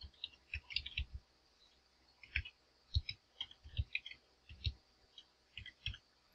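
Keys clacking on a Turkish-layout computer keyboard, a quiet irregular patter of single taps and short quick bursts spread across several seconds, close by in an otherwise still room.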